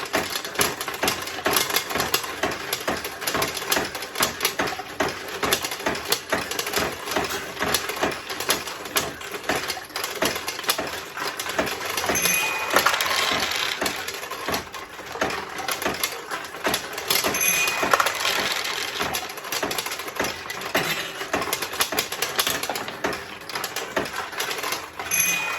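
Steel balls clatter and rattle continuously through a 1972 Nishijin Model A recycler vintage pachinko machine, a dense, steady mechanical chatter of tiny metallic ticks and clicks filling the whole stretch without talk.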